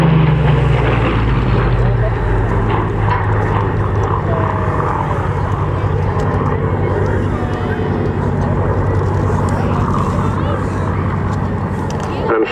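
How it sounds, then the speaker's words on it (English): A Mark II Spitfire flies a wingover display routine at an RAF airshow. Its loud, steady propeller engine roar is heard throughout, with some distant chatter or commentary underneath. "this beautiful Mark II Spitfire"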